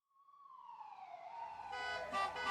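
A cartoon ambulance siren rises in pitch and swells steadily louder as it draws near over a couple of seconds, with a bright wavering wail at the end; no speech.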